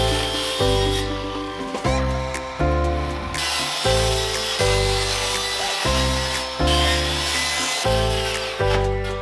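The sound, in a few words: saw cutting out plastic tank bottom tray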